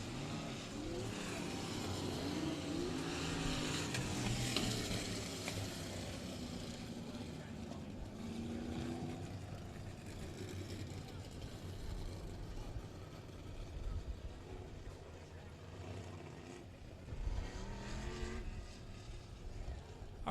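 Sprint cars race around a dirt speedway in Texarkana, their engines a steady distant roar rising and falling over twenty seconds, with a track announcer talking over them.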